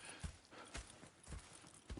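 Horse hooves clip-clop at an unhurried walking pace in the video game Red Dead Redemption 2, with several distinct, soft thuds spaced out over a quiet ambient background.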